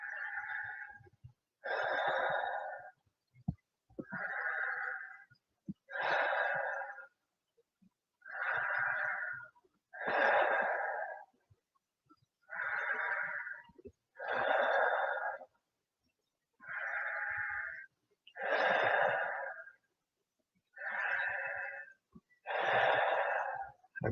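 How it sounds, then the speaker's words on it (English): Slow, deep yoga breathing through the nose during a restorative breathwork session, about a dozen long, steady inhale and exhale cycles alternating evenly and close up, with short quiet gaps between them and no talking. "Let's do 10 more nice deep breaths."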